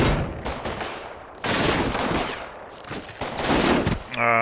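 Gunfire in the World War II tactics game Combat Mission Final Blitzkrieg, dense crackling bursts of rifle and machine gun shots in several waves, with a short voice at the end.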